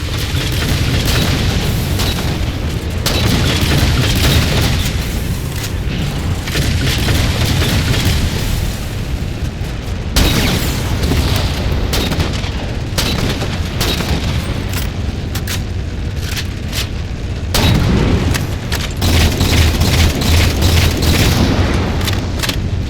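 Halo 4 campaign combat with railgun fire and heavy explosions, repeated deep booms and blasts in dense succession, loud and continuous with short breaks between volleys.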